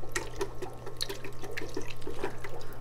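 Bonsai roots swished and shaken in a basin of water to rinse out soil, giving a steady close splashing and sloshing with soft repeated pulses over a low constant hum.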